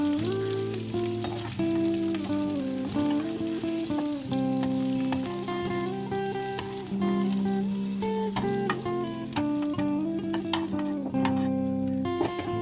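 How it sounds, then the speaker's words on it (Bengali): Chopped garlic frying in vegetable oil left over from frying vegetables for a Bengali pui shaak chochchori, a continuous close sizzle with occasional stirring, heard under steady melodic background music. "এবার ওই সবজি ভাজা তেলের মধ্যে আমি রসুন কুচিগুলো দিয়ে দিলাম"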